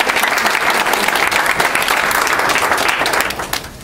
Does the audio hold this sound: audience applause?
yes